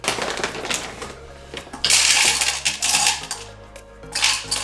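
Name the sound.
chocolate callets blitzed in a food processor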